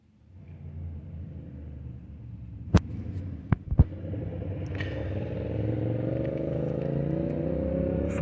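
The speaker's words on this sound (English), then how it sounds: "Of course, the exhaust." A 2006 Corvette LT3 V8 with a 4.5-inch full-body H-pipe exhaust starts and idles with a deep steady rumble, a few sharp clicks, then climbs gradually in pitch and loudness as the engine revs up, close by.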